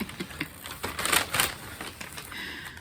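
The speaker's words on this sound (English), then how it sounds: "Excuse the crinkling." Packaging crinkles and rustles close by in short bursts of crackling, with a louder crunch in the middle and softer handling noises around it.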